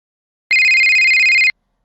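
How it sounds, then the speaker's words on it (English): A telephone rings in one loud, steady electronic trill lasting about a second, close and isolated, with silence before and after. "Suddenly the phone rings and I get a call."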